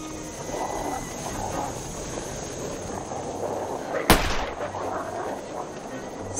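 A flare fired in the video game The Long Dark: one sharp, loud burst cuts through a steady wind-like background rumble, followed by a short hissing tail.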